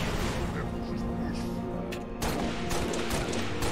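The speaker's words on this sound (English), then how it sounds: "Leave it right there and I'll sticky grenade it." Halo Reach gameplay carries bursts of gunfire and booming sticky-grenade explosions, loud and close, with a sharp blast partway through as players talk over the action.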